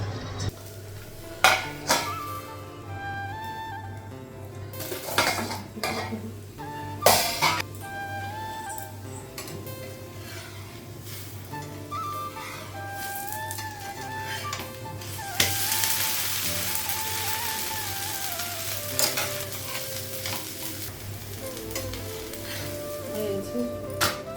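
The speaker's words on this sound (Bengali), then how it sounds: "তাওয়াটা গরম হয়ে গেছে, এখন রুটিটা করবো।" Roti being made on a hot tawa griddle in a home kitchen, with scattered clinks and clatter of utensils against metal, a faint sizzle rising later, and quiet background hum.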